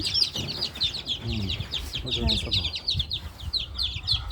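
Chickens in an open backyard pen covered with netting cluck and chirp steadily throughout, close by, with a person talking underneath.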